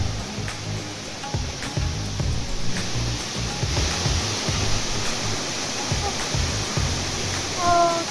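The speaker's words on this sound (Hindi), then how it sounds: "पत्थरों के बीच से बह रहा है पानी।" A waterfall near Nrusinghanath Temple in Odisha, water pouring between rocks, makes a continuous broadband rush that stays steady throughout, with faint voices in the background.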